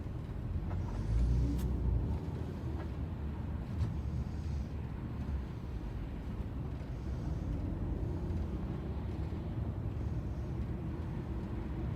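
Inside a car driving from Wilmington to Philadelphia in heavy traffic, a steady low road rumble and engine drone fills the cabin, with faint passing vehicles and an occasional brief thump.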